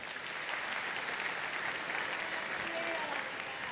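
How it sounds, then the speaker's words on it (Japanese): Steady, dense applause from a crowd, continuous and even throughout, with faint voices underneath. "拍手お願いします。"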